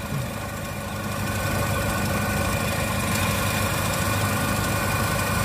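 Steady low hum of a 2013 Nissan Serena Highway Star minivan engine idling smoothly and quietly, constant throughout with no talking.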